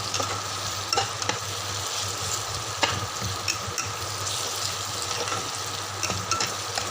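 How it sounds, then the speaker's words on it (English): Fish curry masala ingredients being mashed and stirred in a hot oiled pan for an Andhra-style dish, with a steady close sizzle and scattered scraping and tapping of the utensil against the pan, no talking. "So I'm just mashing all the ingredients like this."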